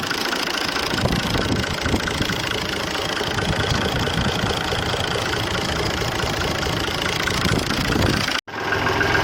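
A tractor engine idles steadily at a rural home, a continuous close rumble with knocking vibration that runs unbroken for most of the stretch, then cuts out abruptly and resumes near the end.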